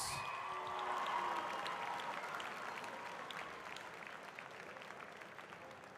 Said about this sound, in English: a round of applause for these Thai warriors